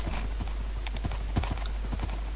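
Horse hooves clip-clop in the Minecraft video game, a quick run of crisp, evenly spaced hoof taps close and clear over a low steady hum, with a couple of faint high tones.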